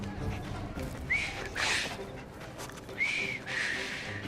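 A character whistles in the video game Assassin's Creed Syndicate, two short rising whistle phrases about two seconds apart, fairly faint over a low background.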